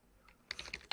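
A short burst of keystrokes on a computer keyboard, a handful of quick close clicks after a brief quiet pause, with no one talking.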